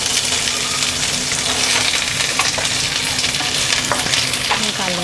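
Capsicum is stir-fried with other vegetables in hot oil for Veg Kolhapuri, a loud, dense, continuous sizzle with brisk stirring scrapes close up and no speech.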